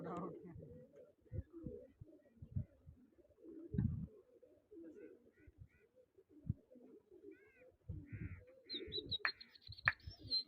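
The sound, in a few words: pigeons cooing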